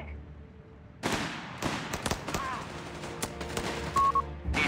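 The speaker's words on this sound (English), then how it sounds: "Enemy troops open fire." Gunfire erupts in the World War II strategy game Company of Heroes 3 as enemy troops open fire: sharp, scattered shots and short bursts rattle at moderate distance, with faint game voices and interface beeps mixed in.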